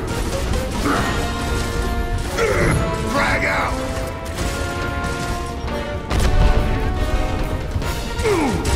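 Gears of War frag grenade going off amid a loud, sustained battle of crashes, mechanical clatter and impacts, with voices calling out over the din.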